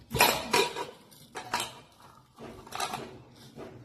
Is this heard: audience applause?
no